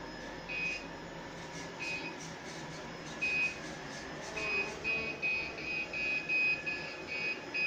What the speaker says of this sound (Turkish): Ve gördüğünüz gibi park sensörü bayağı bir ötüyor.